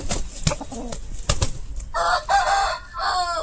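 A rooster on a poultry farm gives a loud, close crow lasting about a second, after a few sharp clucks and rustling.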